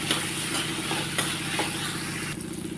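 Onion and tomato sizzle steadily in a pan for dal fry, with a spoon stirring and scraping through the mixture in a continuous close, even hiss over a low hum.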